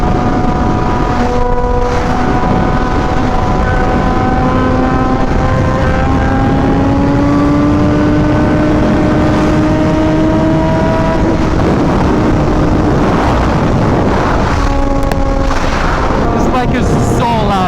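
A Honda Fireblade RRR SP with decatted headers roars very loud and close, its engine note climbing and falling through sustained revs with crackling pops, continuous throughout with rising and falling pitch.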